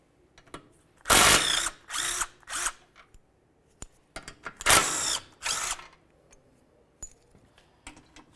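A power tool with a 16mm socket removes mounting bolts from a 2009-2020 Dodge Journey during a timing belt job: loud, close whirring bursts, two long and several shorter, with ratcheting clicks between them.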